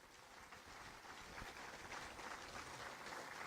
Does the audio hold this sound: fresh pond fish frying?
no